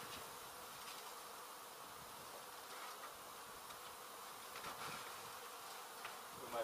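Honey bees buzz in a steady, faint, dense drone as a hive is removed from a meat smoker in La Feria, Texas. The buzzing runs continuously without pause.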